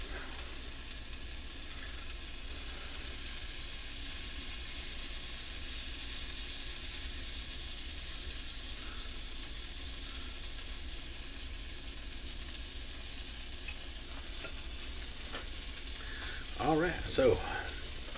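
Birch Benders keto pancakes cook on a hot surface with a steady, even sizzle and hiss throughout, and someone speaks briefly near the end.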